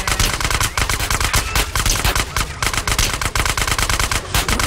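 Rapid automatic gunfire in the video game GTA Underground, loud and close, bursts of shots repeating quickly and continuously with no pauses for talk.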